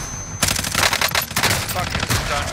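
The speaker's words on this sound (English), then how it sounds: "Getting shot by two fucking people." Video game gunfire, rapid bursts of shots from close range starting abruptly after a short quiet moment, loud and dense, with a voice briefly heard beneath.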